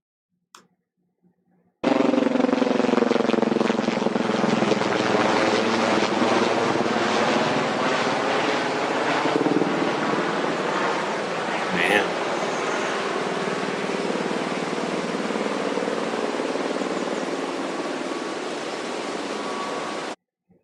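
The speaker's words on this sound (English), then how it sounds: "Sounds like you can hear about at least 2 or 3 helicopters all racing towards this fire." Several helicopters flying toward a wildfire in South Korea, a steady loud rotor and engine roar with rushing wind noise that starts abruptly and holds at high level throughout, with no talk.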